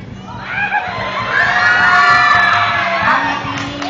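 A pageant audience at a Miss Gay contest cheering and shouting, a loud continuous crowd roar full of high whoops and yells that swells in the middle and stays strong throughout.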